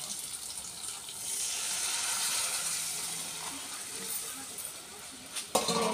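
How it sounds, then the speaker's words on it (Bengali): Water poured into a mustard spice mixture for a katla fish curry gives a steady, close rushing pour lasting several seconds, ending with a brief sharp clatter. "মশলাটার মধ্যে জলটা ঢেলে দেবো এখন আমি"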